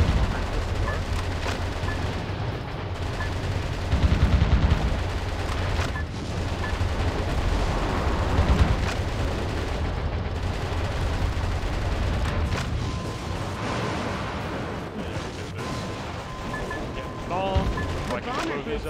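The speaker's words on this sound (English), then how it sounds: "They weren't kidding about how powerful those long-range missiles are." Long-range missile explosions from a Navy cruiser in the video game Metal Wolf Chaos, heavy booms and rumbling blasts with crackling gunfire, loud and continuous under game dialogue.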